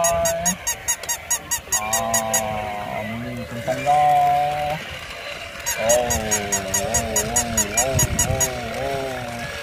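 Repeated nasal duck honking calls in quick rhythmic bursts, mixed with other loud tonal sounds and voices in a busy, lively setting.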